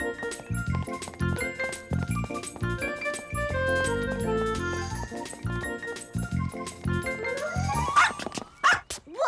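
Cartoon dog barking in a children's animated episode, a run of bright repeated barks and yips over music, ending with a rising whoosh-like sound and a few last barks near the end.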